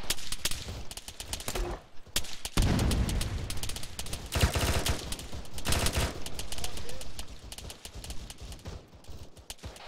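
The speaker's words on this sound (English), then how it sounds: "Yeah, that's AK fire." Bursts of AK rifle fire in a military simulation game crack out repeatedly, some volleys close and loud and others more distant, with an uneven rhythm and brief pauses between strings.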